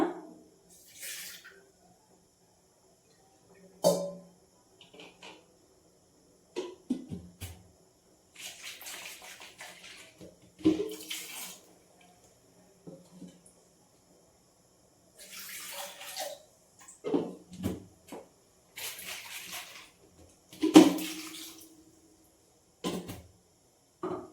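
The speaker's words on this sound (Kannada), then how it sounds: "ಸ್ವಲ್ಪ ಜಾರ್ ತೊಳೆದ್ಬಿಟ್ಟು ನೀರು ಹಾಕೊಳ್ಳೋಣ" A kitchen tap gushes in short, separate spurts while a mixer jar is rinsed, each burst of splashing water cut off by quiet gaps, close by and moderately loud.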